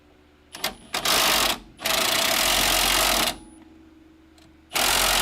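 Air impact wrench working a sway bar end link on a 1991 Camaro during a front suspension swap, firing in loud rattling bursts: a couple of short stuttering hits, a long sustained run, then another burst after a pause.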